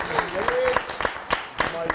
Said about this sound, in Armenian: Շնորհակալություն այս ջերմ ծափահարությունների համար։